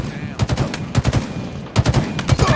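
Rapid bursts of automatic gunfire in the video game Halo Infinite, several quick volleys of close, punchy shots with short gaps between them, over a steady bed of game background noise.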